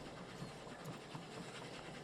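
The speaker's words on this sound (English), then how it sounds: "And we'll just hang on the train until we reach down there." Train running in the factory-building game Oddsparks, a faint continuous rumbling rattle with soft rhythmic clicks, steady and distant with no talk.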